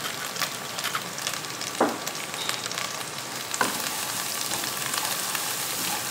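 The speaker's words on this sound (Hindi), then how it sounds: "अब इसको अच्छी तरह भून लेंगे। 1 मिनट फ्राई कर लेंगे काली मिर्च के साथ।" Spices fry in a pan with crushed black pepper for Afghani kishmish rice, giving a steady, soft sizzling hiss broken by a few sharp clicks and pops.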